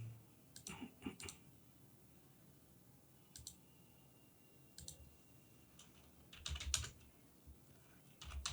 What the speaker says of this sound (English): So let's type once again Manim checkhealth